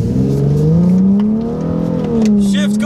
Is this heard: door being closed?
no